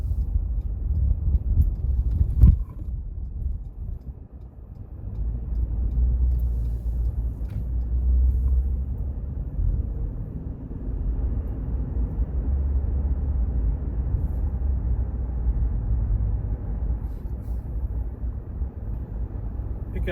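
A 2020 Ford Ranger pickup truck driving on a town road at about 40 mph, heard from inside the cab as a steady low engine and road rumble, with a brief knock early on and no talk.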